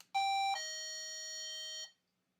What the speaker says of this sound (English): Your typical doorbell type sound is the first option